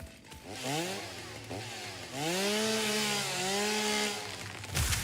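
In the video game Satisfactory, a chainsaw cuts through trees with a loud, steady revving drone whose pitch rises and wavers over several seconds, close up with no talking.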